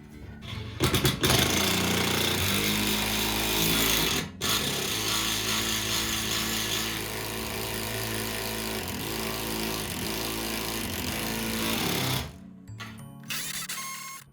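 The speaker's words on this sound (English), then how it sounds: "we're going to drill those lag screws through" A power drill whines loudly and continuously for several seconds, with brief stops and restarts, as lag screws are driven into a wall nearby.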